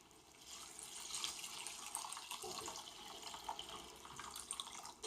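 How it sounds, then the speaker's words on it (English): Water pours steadily into a pot of washed rice for yellow rice with gandules and bacon, a continuous soft splashing stream heard close and fairly quiet. "Just gonna actually put in my water now."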